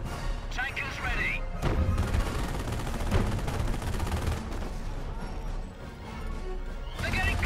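Gunfire in Company of Heroes: Opposing Fronts, during the battle for Caen, comes as dense overlapping shots, thumps and crashes throughout, with voices talking over the din.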